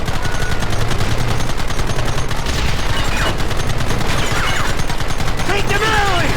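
Rapid, loud gunfire from a Red Dead Redemption shootout on Xbox 360, with dense overlapping shots and bursts sounding continuously and close throughout.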